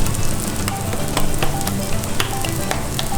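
Plantain arepas frying in plenty of fat in a pan, a steady loud sizzle with sharp crackles and pops scattered throughout, no talking.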